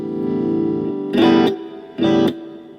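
A Filipino-made RJ Stratocaster electric guitar played through BOSS effects with reverb sustains a held chord, then two short strummed stabs ring out loudly with a tail of reverb.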